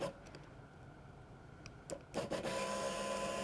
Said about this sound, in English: you can hear the fuel pump run